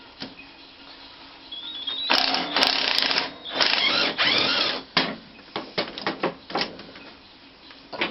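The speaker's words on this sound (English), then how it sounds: "just undo the bolt in the middle first" A tool works loose the middle bolt holding a blade, with bursts of rapid metallic ratcheting and clicking separated by short pauses, close and fairly faint, with no talk.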